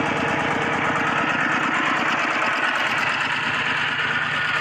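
A walk-behind tractor or water pump engine runs steadily after an oil refill, a loud, close, continuous rapid chugging with a rattly mechanical clatter throughout.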